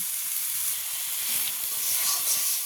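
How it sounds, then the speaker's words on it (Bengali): Turmeric powder, salt and spices frying in oil in a pan, a steady close hiss and sizzle without a break and without voices. "তো এটা একটু ভেজে নেব।"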